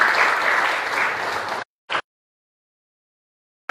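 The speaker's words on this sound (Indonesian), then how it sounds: "Tepuk tangan dong buat saya." Loud applause from a church congregation fills the room for about a second and a half, then cuts off abruptly, with a brief burst of clapping shortly after.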